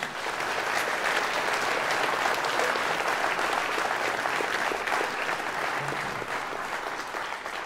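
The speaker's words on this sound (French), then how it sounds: "Je vous demande d'applaudir Igor Bra-Guerrero." Dense, sustained applause from a crowd at a campaign rally, loud and even throughout, with no break in the clapping.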